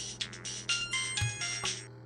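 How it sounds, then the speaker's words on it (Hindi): An electronic phone ringtone plays alone for about two seconds, a bright repeating melodic tone signalling an incoming call. "ये देख फोन भी आ गया प्रमोशन के लिए रे।"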